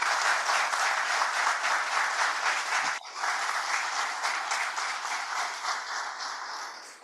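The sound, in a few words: audience applause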